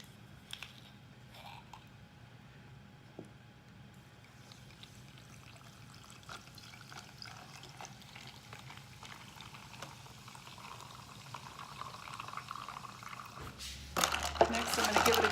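Pellegrino sparkling water poured into a glass, a soft fizzing and trickling that grows steadily, ending in a louder burst of bubbling pour near the close.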